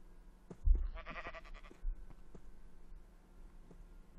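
Sheep bleating in a Minecraft Bedwars game, one clear wavering bleat near the start amid faint clicks and game noises, fairly quiet overall.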